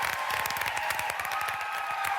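Studio audience applauding the musicians on a television show, steady even clapping heard from a distance and under a persistent musical tone, with no break.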